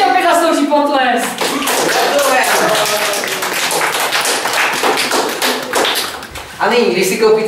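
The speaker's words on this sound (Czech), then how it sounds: "A to si opět zaslouží potlesk." Dense clapping from a crowd fills a studio during a Czech advertisement show, loud and continuous with busy overlapping claps, under and between talking voices.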